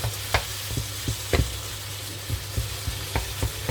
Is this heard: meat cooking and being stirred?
yes